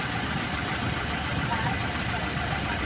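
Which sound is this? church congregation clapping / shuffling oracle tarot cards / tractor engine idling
tractor engine idling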